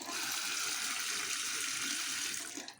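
Tap water runs steadily into a sink as cut bottle gourd pieces are rinsed, a continuous close hiss and splash that tapers off near the end.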